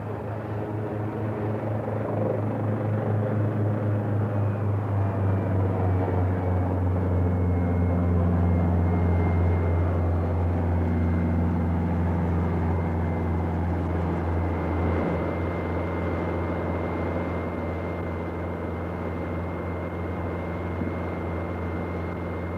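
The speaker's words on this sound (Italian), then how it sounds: "Dopo aver raggiunto il Castoro in elicottero, Cousteau è colpito dalla portata delle operazioni." A helicopter's engine drones with a steady low hum and rumble, staying close and fairly loud throughout, then easing a little toward the end.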